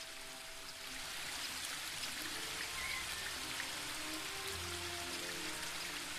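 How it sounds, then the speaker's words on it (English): Steady broadband rush of a waterfall in The Book of Unwritten Tales 2, swelling up after the first second and then holding constant and fairly quiet, mixed with soft tonal game music. "The waterfall and I have been neighbours for so long that I don't really hear it anymore."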